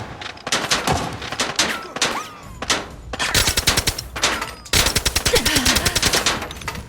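Rapid bursts of automatic gunfire from the video game Arena Breakout, sustained and loud, with brief gaps between volleys, the weapons firing nearby.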